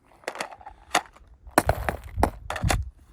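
Several sharp pops from an MCS Vortex paintball marker firing outdoors in freezing cold, arriving as separate close shots in an uneven series, with a denser cluster of quick bangs toward the end.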